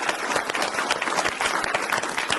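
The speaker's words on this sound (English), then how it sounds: "So a big round of applause for all the wonderful like." Audience applause at a conference on worker ownership, a continuous broad patter of many hands clapping at steady, moderate loudness with no speech over it.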